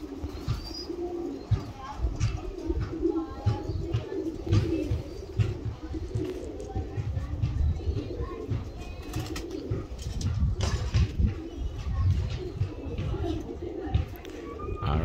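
Roller pigeons at a loft coo continuously, low and close, with occasional chirps and flutters layered over the steady murmur of the flock.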